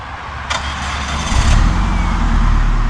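A car engine revs hard during a burnout, its deep roar building and swelling into a loud, sustained growl, close and dominant, with no talking.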